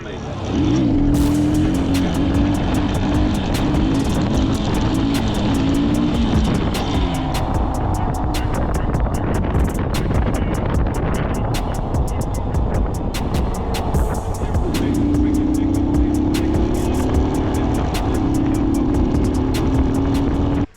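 A car drives along with a steady loud engine drone and road rumble heard from inside, with the engine pitch rising and shifting at times and faint talk beneath.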